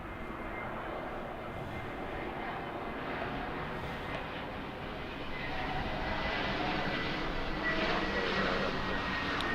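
A Southwest airliner taking off from runway 24 left at LAX produces a steady, broad engine roar with no voices. The roar rises noticeably about halfway through and stays loud to the end.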